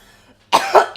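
A person coughs after a bong hit, a few harsh, close bursts in quick succession.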